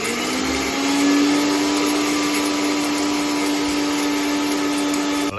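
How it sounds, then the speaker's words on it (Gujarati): A mixer grinder grinds roasted sattu, a steady, loud motor whine with a rising hum that runs without a break for about five seconds and then cuts off. "મિક્સરમાં એનો દળી નાખવાનો"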